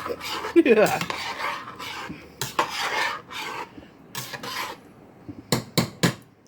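Food is stirred in a bowl with a utensil, giving irregular scraping and clinking strokes in short bursts with pauses between them, fairly close.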